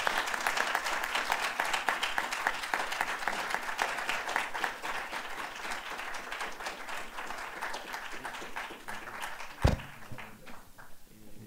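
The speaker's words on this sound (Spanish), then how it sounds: "Un aplauso para los participantes." An audience at a conference panel on empathy, reconciliation and peace applauds the participants, a long dense round of clapping that gradually thins, with a sharp thump near the end and faint crowd murmur.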